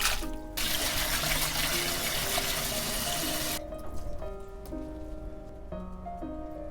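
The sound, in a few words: rinsing boiled sweet potato stems in cold water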